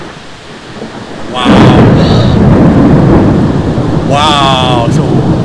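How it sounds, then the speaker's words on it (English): Thunder rumbles loudly and continuously during a nighttime thunderstorm in the rain, with wind buffeting the microphone and a person exclaiming over it. "it was kind of thundering and lightning"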